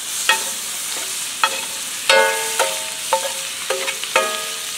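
A sauce mixture stirred in a pan, with a utensil clinking and scraping the metal in irregular bursts over a soft sizzle, close and fairly loud with no talking.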